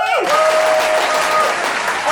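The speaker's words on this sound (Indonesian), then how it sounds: "Tepuk tangan dulu" Brief burst of clapping from a small group at a podcast recording, loud and close, lasting about two seconds.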